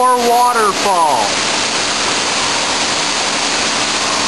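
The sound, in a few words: indoor waterfall beside a fish tank at the National Aquarium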